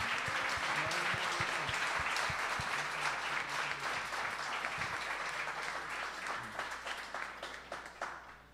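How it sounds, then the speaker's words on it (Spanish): Church congregation giving a loud round of applause during a worship service, sustained dense clapping that thins into scattered individual claps toward the end. "un aplauso fuerte a Él."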